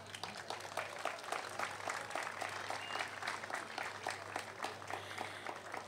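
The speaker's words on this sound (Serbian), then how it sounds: "molim za jedan aplauz." An audience at an outdoor festival event in Tivat applauds steadily for several seconds, a dense even clapping that sounds moderately distant and continuous.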